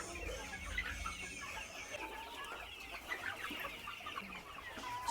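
Desi country chickens cluck softly and repeatedly inside a poultry shed, several birds calling over one another at a faint, distant level with a low background hum.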